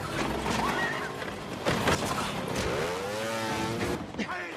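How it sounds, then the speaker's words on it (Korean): Motorcycle engines rev and whine with rising and falling pitch in a chase through a narrow alley in The Bourne Ultimatum, loud and close, with voices speaking over the roar. "좁은 골목길에서 벌어지는 오토바이 체이싱을 시작으로"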